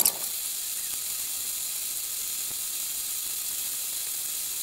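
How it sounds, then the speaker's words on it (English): A steady hiss of rolling, bubbling water as an iPhone 6s boils in it continues without a break, with a faint clatter near the start. "So for now, let it just keep boiling."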